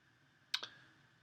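A single crisp mouse click, made while pressing OK in Dreamweaver on a computer, sounds close and quiet with a faint second tick right after, set against a low steady room hum.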